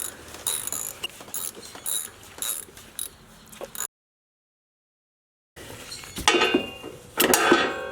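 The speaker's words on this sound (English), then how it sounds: "You want to use a 5/8 inch socket on a ratchet. And what you want to do is you want to pull it toward you, because that's going to loosen it." A ratchet wrench with a 5/8 inch socket loosens the spark plug on a lawn mower, giving repeated clicking, mechanical ratcheting bursts with a silent gap in the middle, close and fairly loud.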